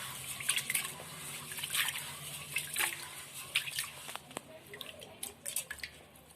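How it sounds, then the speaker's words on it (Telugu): Rice being rinsed by hand in borewell water, with irregular splashes, drips and soft swishing close by, fairly quiet, with a brief voice in the background. "ఇక్కడైతే బియ్యం బోర్ నీళ్ళతో అయితే కడిగేసుకుంటున్నా"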